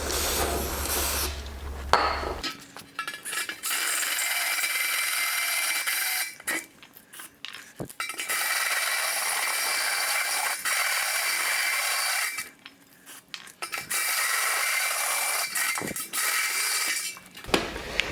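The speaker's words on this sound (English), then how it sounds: "I'm using a bimetallic hole saw for this." A 52 mm bimetallic hole saw grinds loudly into a steel beer keg in long harsh bursts, with brief pauses between stretches of shrill, rasping cutting.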